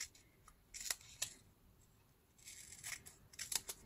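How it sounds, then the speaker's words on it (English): Scissors snip through two layers of old book pages in short crisp bursts, several quick cuts in irregular clusters, close and quiet against a near-silent room. "I'm gonna cut those both layers"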